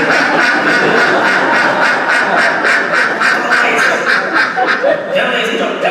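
A flock of ducks quacks continuously in a dense, loud chorus of rapid overlapping calls, close by, with a voice briefly audible underneath.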